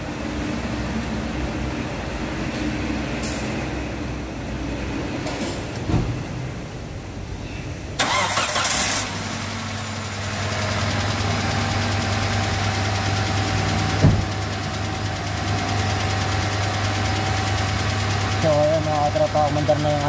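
A rebuilt Hyundai Matrix 1.6 engine cranks and catches with a burst of noise, then settles into a steady, close idle with a low hum and some mechanical rattle; a voice speaks briefly at one point.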